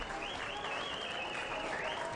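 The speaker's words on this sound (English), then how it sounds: "they get a round of applause too from the Casey boys at the back" Steady applause from a football crowd at a VFL qualifying final, heard at a distance as continuous even clapping with no breaks and a faint voice running over it.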